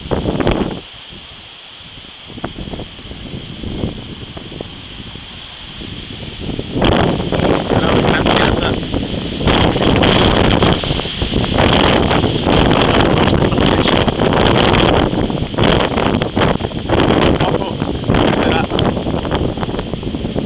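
Strong downburst wind gusts in a thunderstorm roar and buffet the microphone, calmer at first, then surging into loud, continuous blasts with rustling and rattling around, in the evening at Vittorio Veneto, Italy.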